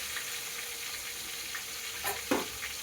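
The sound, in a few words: tomatoes and red chili frying in a pan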